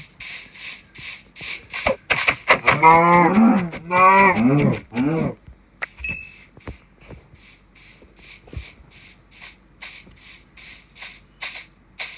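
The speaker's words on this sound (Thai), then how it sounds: "เจอวัวแล้วก็ฆ่าครับ" A long, loud cow moo with rich harmonic tones stands out over a steady game-like background of repeating clicks and faint ambient noise.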